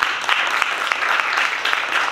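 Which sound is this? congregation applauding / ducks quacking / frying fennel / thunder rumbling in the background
congregation applauding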